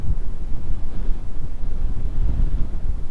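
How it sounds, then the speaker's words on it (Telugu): A strong wind blast whips dust across an off-road mountain track in Ladakh, between Nubra Valley and Pangong Lake. It is a loud, continuous, low rumbling buffet on the microphone with no pause and no voices. "ఇప్పుడు వస్తుంది చూడమండి విండ్ బ్లాస్ట్"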